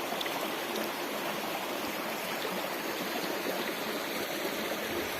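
River water flowing steadily near a dead tree trunk in a natural setting, a dense continuous rushing and babbling that sounds close and constant, with no voices.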